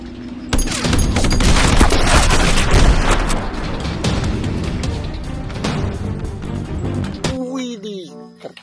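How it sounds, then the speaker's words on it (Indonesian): Dense, loud bursts of rapid gunfire with booming blasts keep going for about seven seconds, then cut off abruptly, leaving a short stretch of quieter tones. "lihat di sini ada tembak-tembakan"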